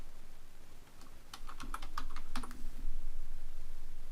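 Keys clatter on a computer keyboard in a quick, close run of clicks as a label is typed, growing steadier toward the end, with no voices over it.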